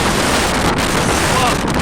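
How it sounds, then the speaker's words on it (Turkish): Strong lodos wind in Ereğli, Turkey roars and buffets against the microphone in a constant, loud rush of noise. "şiddetli rüzgar ve etkisini arttırıyor"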